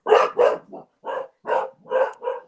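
A dog barks in a rapid series of about seven close, loud barks with short gaps between them, with no other sounds behind it.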